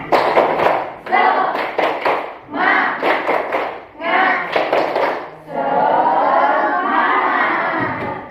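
Fifth-grade pupils perform the 'tepuk semangat' spirit clap in class, with short rhythmic bursts of clapping and chanting separated by brief pauses, finishing in a long, loud group shout.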